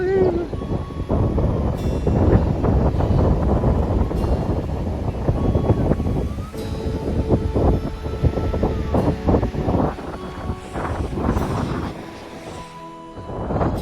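Strong wind blasts across a snowy mountain pass at Zero Point near Yumthang Valley, beside an icy river, roaring and buffeting the microphone loudly and steadily with gusty swells throughout.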